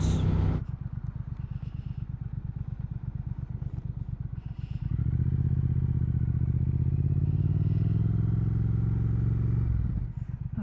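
A Triumph Speed Twin motorcycle idles with a steady thumping putter, then the engine note swells and holds before dropping back as the bike comes to a stop, close and clear.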